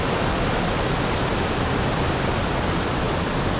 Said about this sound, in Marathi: मित्रांनो पर्याला पूर आलेला आहे